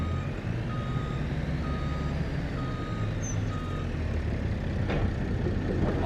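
Truck reversing alarm in a farming video game, a steady series of repeated beeps over a constant engine rumble, with a brief hiss near the end.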